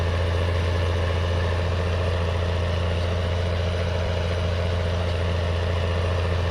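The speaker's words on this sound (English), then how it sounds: "my tractor does struggle a little bit with this cultivator going up a slight incline" A tractor hauls a cultivator up a slight incline in a farming simulator game, its engine laboring in a steady, loud low drone that runs unbroken throughout with no talk.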